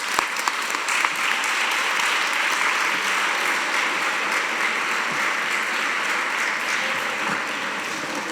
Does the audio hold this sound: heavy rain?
no